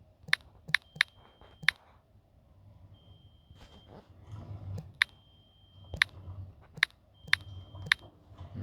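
Typing on a keyboard, sparse sharp key clicks spaced irregularly with quiet pauses between, close by and without speech.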